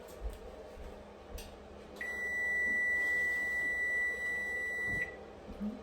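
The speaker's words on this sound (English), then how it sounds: "Here's my timer." A kitchen timer sounds a single sustained electronic beep lasting about three seconds in a quiet home kitchen during Christmas cookie baking, fairly clear and close.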